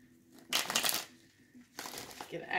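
Tarot cards are shuffled in two brisk bursts, close and crisp, separated by a quiet pause, with soft talking around them.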